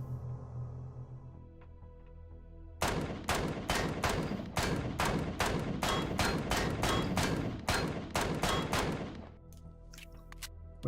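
Rapid bursts of weapon fire in the sci-fi survival game Empyrion Galactic Survival, a steady stream of sharp repeated shots running for several seconds, loud and close, then stopping, with no talking.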